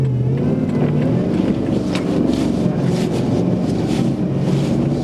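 A car drives fast through a snowstorm with a loud, constant engine drone and road rumble, buffeted by wind noise across the microphone.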